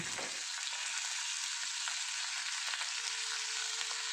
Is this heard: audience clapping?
no